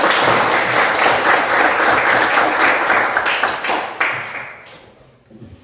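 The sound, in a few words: class clapping together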